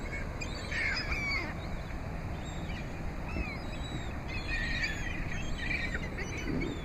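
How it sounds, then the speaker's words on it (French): Sparrows chirp and tweet around someone sitting outdoors among a flock, scattered short calls near and far over a steady background hiss of wind or traffic. "Tous les moineaux sont alentour de moi."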